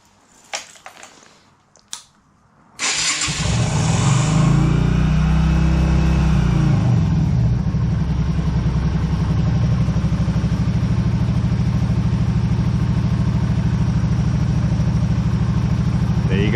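Yamaha Virago XV250 motorcycle, cold and on choke, cranks after a few clicks and catches, then settles into a loud, steady, throbbing idle close by.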